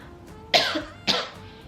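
Two sharp coughs from a person with COVID, about half a second apart, close to the microphone with quiet background between them.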